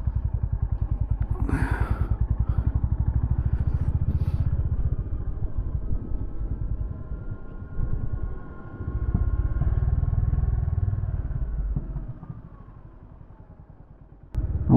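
A motorcycle engine chugs steadily while riding a mountain road toward Pelling, with dry water crossings along the way, rising and easing with the terrain; a voice speaks briefly over it.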